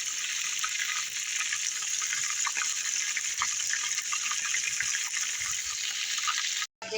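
A frying pan being washed under a running kitchen tap, a steady, even hiss of flowing water close by that continues without a break almost to the end, with no voices.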